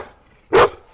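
A single short, loud dog bark close by, heard alone at a wildlife park where African wild dogs are kept.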